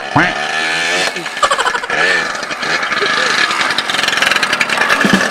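A 200cc motorcycle engine runs with a steady mechanical drone close by, under people talking over it.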